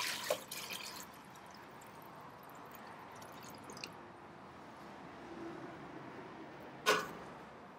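Liquid dripping from a squeezed grain bag while brewing an American porter and wheat beer: soft wet squishes and trickling drips, fairly faint and close, with a sharper splash near the end and no talking.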